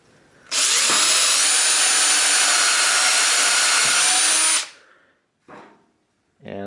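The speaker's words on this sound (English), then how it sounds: "I'm going to drill a countersink" A power drill whirs steadily at high speed for about four seconds as it drills a deep countersink into wood, then winds down, followed by brief faint rustling.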